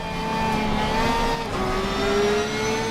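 In a racing sim video game, a race car engine holds a sustained, high, tonal whine that rises slightly in pitch as it revs, steady and fairly loud, with no talk over it.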